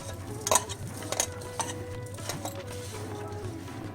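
A utensil stirs a spiced potato filling of mashed potato, green chili, salt and coriander for bathua aloo kachori. It makes several clinks and scrapes against a bowl over a steady low hum.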